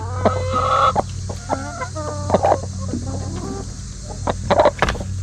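Broody hens in a homestead coop clucking and grumbling close by, a run of short rhythmic clucks and low purring calls over a steady background hum, with no talk.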